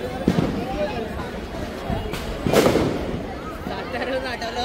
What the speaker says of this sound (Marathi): अख्ख्या मुंबईतून इथेच याला येऊन फटाके फोडतात